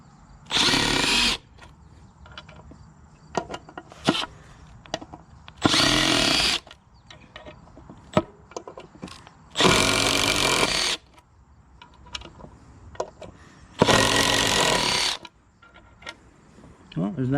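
A Milwaukee M18 Surge impact driver driving fasteners, four loud bursts of about a second each spaced a few seconds apart, with small clicks and handling noises in between.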